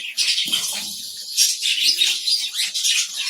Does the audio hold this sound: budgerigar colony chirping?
yes